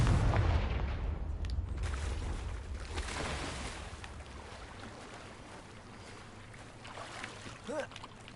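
Confringo fire spell blast in the video game Hogwarts Legacy, a loud booming burst at the start fading into a rumbling wash, with smaller thuds and whooshing effects later.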